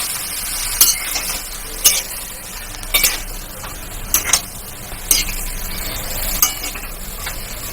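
Potatoes and onions stirring and frying in oil, a steady sizzle under about six sharp, clinking scrapes of a utensil against the pan, spaced roughly a second apart, with no talking.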